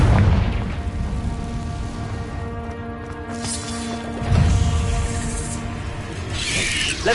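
Confringo blast spell in the video game Hogwarts Legacy, a low rumbling boom followed by a second heavy impact and crackling debris, loud over a droning game soundtrack.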